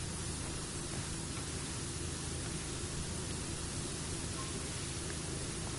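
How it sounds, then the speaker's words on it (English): Steady, dense hiss of a pressure washer spraying in PowerWash Simulator, an even wash of white noise that runs unbroken throughout with no voices. "It is pretty good white noise"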